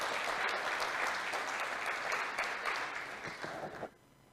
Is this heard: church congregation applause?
yes